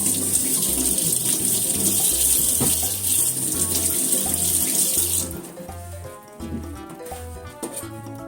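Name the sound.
washing carrots under running tap water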